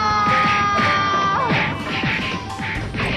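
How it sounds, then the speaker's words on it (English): Stock punching and smacking effects in a Naruto anime fight as several clones beat an old man, a rapid run of loud whacks and crashes with grunts and cries over a busy soundtrack. "And then we just hear default punching sounds."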